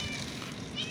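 A cat waiting to be fed meows twice in quick succession, close by, with faint background noise.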